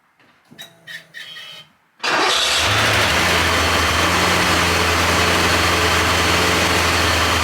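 A Porsche 928 engine cranks briefly, then catches and roars to life, settling into a loud, steady idle close by.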